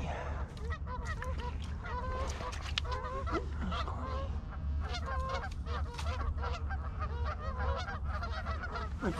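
A large flock of geese honks continuously during a September goose hunt, with dense overlapping calls, loud and close throughout.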